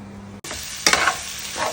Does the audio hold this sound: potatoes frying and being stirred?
yes